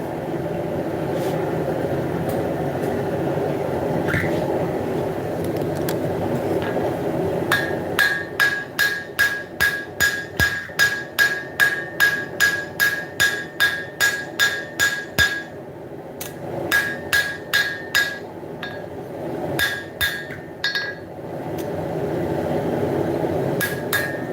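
A hunting knife blade of steel being hammer forged, a fast even series of ringing metallic blows with a clear tonal ring, set against a steady background hum and followed by a few more scattered strikes.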